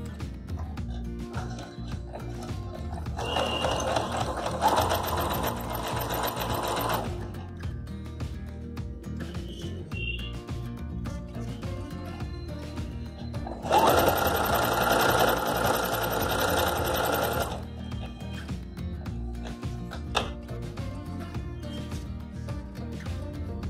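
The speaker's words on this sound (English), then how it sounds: "Now I'm just going to stitch the outline on all the sides, leaving half an inch seam allowance." A sewing machine stitches the outline of layered denim fabric from an old pair of jeans in two steady whirring runs a few seconds each, close and clear over a constant low background hum, with no speech.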